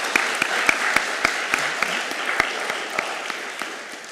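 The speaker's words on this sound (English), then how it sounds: "And for that, we applaud her." Audience at a talk hosted by a prison-reform group applauds, a broad wash of clapping punctuated by a few sharp, close claps that grow sparser as the applause slowly tapers off.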